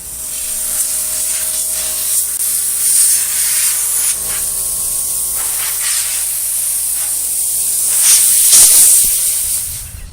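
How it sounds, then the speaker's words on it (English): Spray primer hisses from an aerosol can onto a vintage Craftsman workbench, a loud, close, continuous spray that swells slightly near the end and runs about ten seconds without talk. "Gonna put on a little primer."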